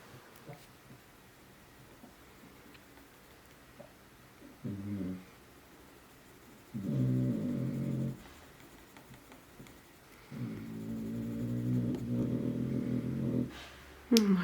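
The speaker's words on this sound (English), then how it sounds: "Oh my god, that dog." A dog's low growls and whines come in several drawn-out bursts of rising intensity against a quiet room, with no talking.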